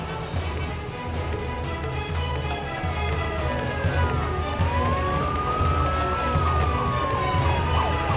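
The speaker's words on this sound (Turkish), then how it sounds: "Ambulans sesi de geliyor." A wailing ambulance siren rises and falls in the distance over steady traffic rumble, with a repeated ticking pulse running through the whole stretch.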